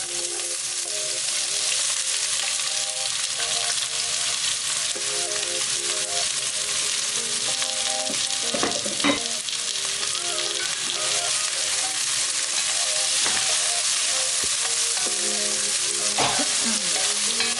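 Vegetables and onions sizzle steadily as they fry in a pan for fried rice with vegetables, with a continuous bright crackle and occasional stirring scrapes close by.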